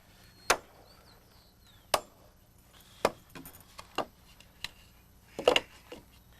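Sharp, separate hammer blows on wood, nailing common roof rafters into place at the seat cut, about seven strikes spaced roughly a second apart against a quiet background.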